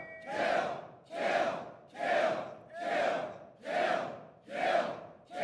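A crowd in the video game Dragon's Dogma II chants in rhythm, six swelling roars rising and falling about once per second, fairly close and with no talk over them.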